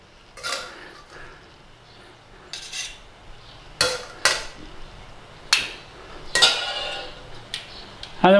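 Cooked potatoes are pressed through a metal potato ricer, with a series of close metallic clanks, creaks and squeezing sounds separated by short quiet gaps.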